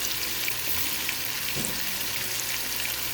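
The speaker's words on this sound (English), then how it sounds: "we're going to take our onion out after we saute it" Onion sautés in a pan before a roux for stewed chicken, an even, moderately loud sizzle running the whole time with a faint stir midway.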